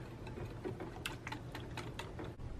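A whisk clicks rapidly against a bowl, mixing vanilla extract, maple syrup and a pinch of nutmeg for a vegan crepe cake batter, with a steady run of light taps heard alone.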